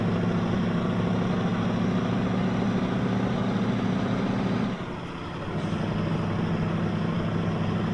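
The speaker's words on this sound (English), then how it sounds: "Listen to that engine" Heavy truck engine with 420 horsepower in Euro Truck Simulator 2, a loud steady low drone under load that dips briefly around the middle before resuming, with no talking.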